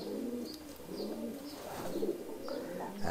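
Bali pigeon giving repeated soft, low cooing phrases in a steady rhythm, near and clear over faint background noise.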